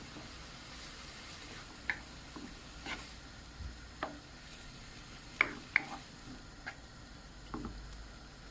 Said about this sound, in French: je vais ajouter les tomates concassées. Et ensuite, je continue de mélanger